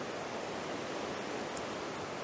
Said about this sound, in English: There's a waterfall or rapids below it